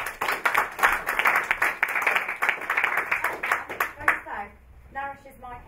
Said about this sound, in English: Round of applause for Sasha.